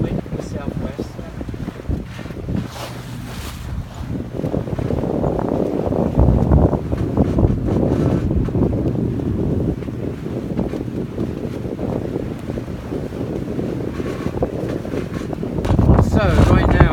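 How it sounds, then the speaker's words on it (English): A sailboat runs on autopilot at over five knots in a southwest wind on Lake Ontario, with steady wind buffeting the microphone and water rushing past throughout, louder near the end. "So right now we are sailing on autopilot on a heading of 201 degrees."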